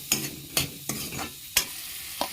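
Onions fry in oil left over from frying meat, a soft sizzle broken by several sharp scraping strokes of a spatula stirring the pan, spaced unevenly.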